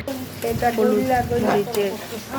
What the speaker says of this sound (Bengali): আমি এখন আদা রসুনটাকে ভালোভাবে কষিয়ে নেব